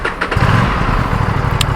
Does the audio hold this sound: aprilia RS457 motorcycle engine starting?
yes